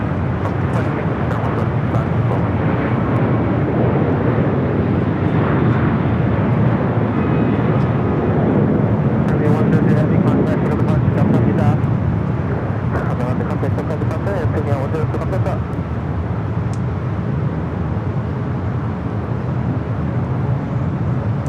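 A Boeing 787 Dreamliner on short final approach at LAX produces a broad, steady roar with no clear peak, heard under near, ongoing talk.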